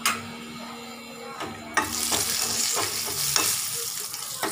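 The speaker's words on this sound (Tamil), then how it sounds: "அடுத்து முந்திரி பருப்பு போடுவோம்." Cashew nuts frying in ghee in a pan for payasam, a steady close sizzle with a few sharper crackles and stirring scrapes, no talking.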